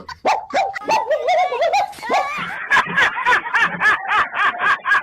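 A man barks and yips like a dog, imitating it loudly and close, with laughter-like bursts mixed in.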